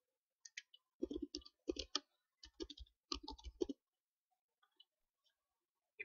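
Quiet clusters of key clicks from typing on a computer keyboard come in short irregular bursts, close but faint, with a few isolated taps trailing off into silence.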